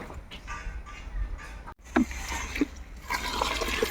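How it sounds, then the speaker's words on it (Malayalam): Water poured into a kitchen soap oil mixture, an ongoing liquid stream with splashing and dripping, a brief break midway, then fuller filling that grows toward the end. "ഇത് മൊത്തം പത്ത് ലിറ്റർ വെള്ളം ഒഴിക്കാനുണ്ട്"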